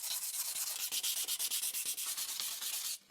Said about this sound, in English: 400 grit wet sandpaper further refines the surface.